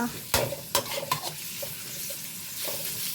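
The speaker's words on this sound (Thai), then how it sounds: "ผัดหมูของเราให้สุกก่อนนะคะ" Pork stir-fries in a hot pan with curry paste, a steady sizzle broken by several sharp scrapes and knocks of a utensil against the pan, all close and without talk.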